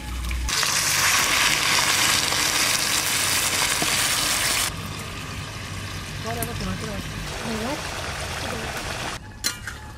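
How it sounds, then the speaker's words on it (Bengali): Hot water is poured into a pan of jackfruit curry with a loud, rushing gush lasting about four seconds, then the mixture settles into a softer bubbling sizzle as someone talks. "এইবার যে গরম জলটা করে রাখছিলাম, ওই গরম জলটা দিয়ে দেবো।"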